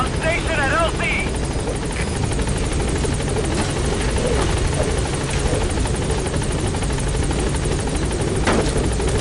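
Helicopter Pequod in Metal Gear Solid V hovering over a landing zone, a loud continuous rotor thrum and whine under a radio voice, with brief electronic chirps early on.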